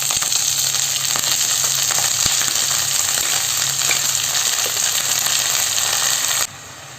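Drumstick leaves with onion and chili fry in a pan, giving a steady, loud sizzle with faint stirring scrapes throughout, cutting abruptly quieter near the end.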